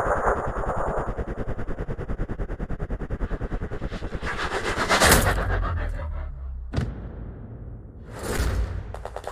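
Sniper rifle shots in the video game Sniper Ghost Warrior Contracts: a loud sharp report with a booming low tail and echo, followed by a second shot and a whoosh, over a steady buzzing game backdrop.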